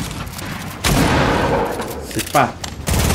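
Dense gunfire from the video game Fortnite crackles in loud sustained bursts and repeated shots over game sounds, with a player briefly speaking.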